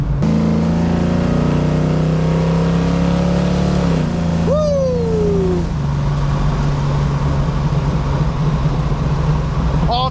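A Camaro's loud, close engine drones at a steady rev, then rises in a sharp climbing rev that falls away to a lower, rougher idle, while a person gives a short excited shout.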